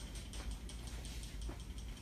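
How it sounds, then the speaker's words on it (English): A spray can of airbrush BB makeup being shaken, giving a quiet rapid series of rattling clicks from the mixing ball, evenly repeated over two seconds. "shake the can"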